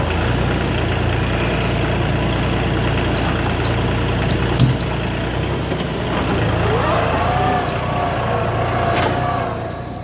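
A tractor engine runs steadily up close, a constant low rumble with a slight rise in pitch partway through, while faint clanks sound over it.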